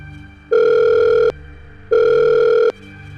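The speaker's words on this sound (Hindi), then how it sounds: "कुछ देर रिंग जाने के बाद दारा ने फोन उठाया।" A telephone ringing tone sounds twice, each long steady buzzing burst separated by a short pause, clear and close with nothing else heard.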